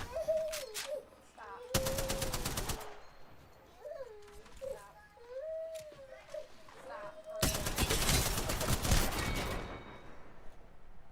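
Two long bursts of automatic gunfire ring out in Apex Legends, rapid and loud, between stretches of high-pitched talking.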